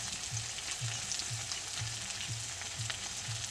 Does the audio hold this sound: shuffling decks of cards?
no